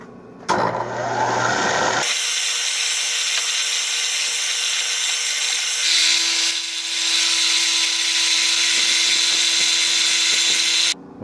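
A milling machine cutting aluminum gives a loud, steady high-pitched machining whine that starts after a brief quieter lead-in, holds almost unbroken with a tonal shift partway through, then stops abruptly near the end.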